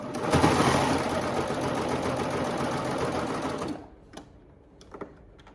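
A serger stitches over the tail end of a waistband seam, its fast steady motor whir running loud and continuous for nearly four seconds before stopping, leaving a few faint clicks and handling noises.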